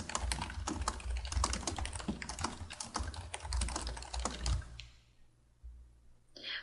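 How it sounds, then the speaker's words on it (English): Text being typed on a computer keyboard, a quick close run of light key clicks that stops abruptly, then a pause and one last faint tap. "so let's type some text."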